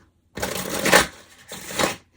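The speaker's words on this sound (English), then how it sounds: "This deck feels really fun to shuffle." Two quick riffling bursts of a plastic deck of cards being shuffled, crisp and close, separated by a short pause.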